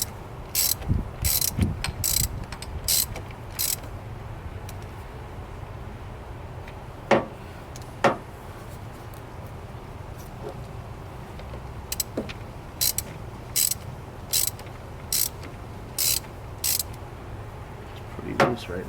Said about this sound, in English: So right now what I'm doing is I'm loosening the nut on the negative terminal.